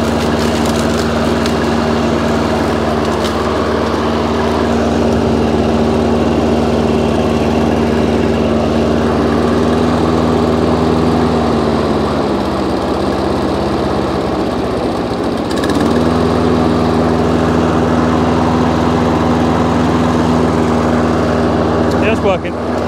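An Active 5800 lawnmower's engine runs steadily and loudly, its drone dipping in pitch for a few seconds near the middle before picking back up, a continuous close-up machine hum throughout.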